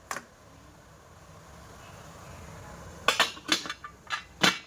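A pan lid being lifted, then a metal spatula clanking and scraping as thin slices of ivy gourd are flipped in a kadhai. Several distinct, close metallic clinks arrive in quick succession after a quiet stretch.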